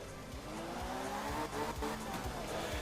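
Car drifting in the rally video game Art of Rally on Nintendo Switch: a continuous engine drone with tire squeal and skidding, fairly loud and steady throughout, with no talking.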